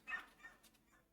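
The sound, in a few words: border collie barking, from video game Planet Zoo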